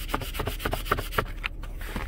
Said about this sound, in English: Otherwise, it sounds like this when I scratch.